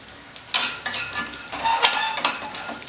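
Peanuts with skins and green chillies fry in oil in a pan, a close, bright sizzle with clattering stirs and utensil knocks that start after a quiet half-second and continue unevenly.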